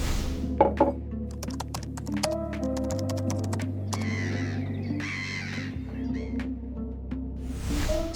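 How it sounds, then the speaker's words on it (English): A seagull calls in a few harsh, rising cries partway through, close and fairly loud, among a busy run of dry clicking like keyboard typing and a steady low hum. "So this seagull really wants to tell me something."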